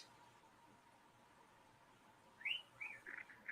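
A pet bird, near a cat, gives a few short, high chirps toward the end after a stretch of quiet room hiss, soft and somewhat distant.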